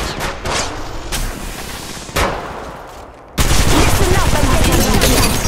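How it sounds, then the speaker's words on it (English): Gunfire in the mobile battle royale game Apex Legends Mobile, rapid automatic bursts with sharp individual shots, growing into a dense, loud volley in the latter half. "I'm getting shot at"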